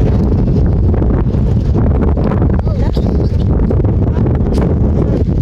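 Strong, steady wind on the Paoay Sand Dunes in Ilocos Norte, Philippines, roars and buffets the microphone throughout, loud and continuous with no pauses.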